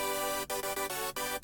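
Second layer of a hardstyle synth chord built in FL Studio, a thick bright sustained tone pulsing through a brief rhythmic series of chord hits with short dips between them.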